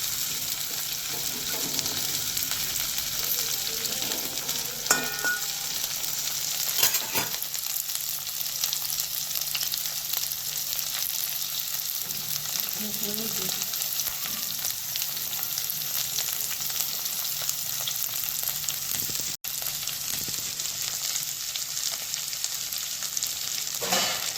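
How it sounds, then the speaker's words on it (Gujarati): Okra sautés in a pan with a steady hiss of sizzling oil that lasts throughout, marked by occasional clicks and scrapes as it is turned. "ભીંડાને બધી સાઈડથી પલટાવી અને સાંતળી લેવાના."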